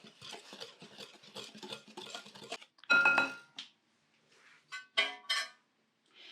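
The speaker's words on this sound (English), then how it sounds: "we're just going to give them a quick mix, just to combine them all" Dry cake ingredients and salt being mixed in a bowl, a quick series of rhythmic scraping and clinking strokes followed by a few louder knocks against the bowl, close with pauses.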